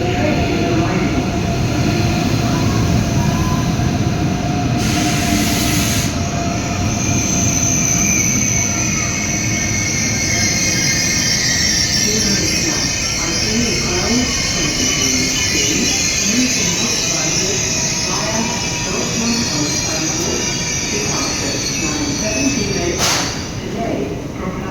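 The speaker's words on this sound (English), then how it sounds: "Caution, the train is arriving." A train rolls into a platform at Essen station, its steady rumbling and wheel noise filling the whole stretch, with a brief squeal and station sounds around it.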